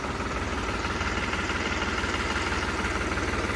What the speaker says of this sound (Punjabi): ਟਰੈਕਟਰ ਦੀ ਆਵਾਜ਼ ਸੁਣੋ ਬਾਈ ਕਿਆ ਘੈਂਟ ਆ